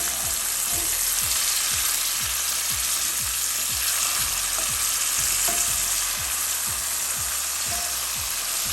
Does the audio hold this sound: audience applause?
no